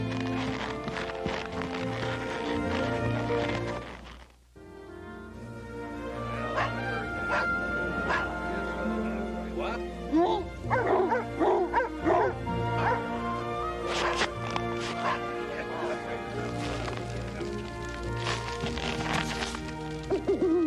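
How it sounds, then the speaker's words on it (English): Sled dogs in a snowy camp bark, yip, whimper and snarl in a chaotic, loud pack, the cries overlapping continuously with brief lulls, while a narrator's voice runs over part of it. "Without warning, the perimeter dog seized her by the throat."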